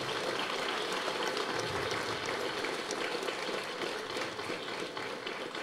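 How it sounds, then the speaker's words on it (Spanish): Steady, dense applause from a crowd honoring a bishop at a community gathering in the village of Chivarabal, Tecpán, a continuous even wash of clapping throughout with no pauses. "Le damos fuerte aplauso a nuestro obispo"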